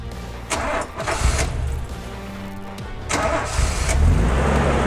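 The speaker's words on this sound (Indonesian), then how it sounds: "kita akan kasih lihat ini semudah apa starternya ya" A 1979 Toyota Land Cruiser FJ40 Hard Top cranks briefly, then its engine catches and settles into a steady, close idle that swells louder in the final seconds, with no talking.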